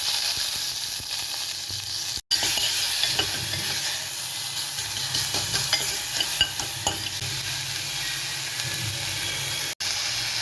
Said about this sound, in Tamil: கடுகு வெந்தயம் போட்டுக்கலாம். இதில் கொஞ்சமாக பச்சை மிளகா, காஞ்ச மிளகா கொஞ்சம், தக்காளி,